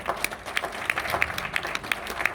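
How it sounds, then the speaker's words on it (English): Sustained applause from a crowd at a women's awards event, a fairly soft, even wash of many hands with a few sharper claps standing out at a regular pace. "Please, crowd, please give an applause."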